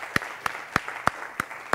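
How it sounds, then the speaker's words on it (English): A handful of slow, evenly spaced handclaps in a university lecture hall during a machine learning class prize moment, six sharp claps, fairly quiet and sparse rather than a full ovation. "Let's give them a round of applause"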